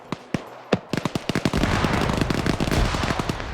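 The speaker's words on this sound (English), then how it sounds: "Ah, it's a smoke grenade." A smoke grenade goes off in a competitive tactical shooter match, heard as a rapid string of sharp popping cracks that thicken into a dense crackling burst and hold for a few seconds.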